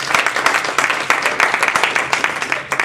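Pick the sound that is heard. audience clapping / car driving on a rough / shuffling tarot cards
audience clapping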